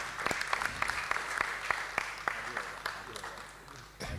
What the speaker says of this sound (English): So a round of applause for Caesar.